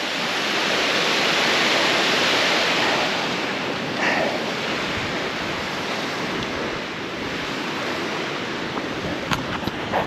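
Steady broadband roar of a mountain waterfall in the Ariège Pyrenees near the Gardelle ponds and Soulcem lake, loud and close throughout with no voices.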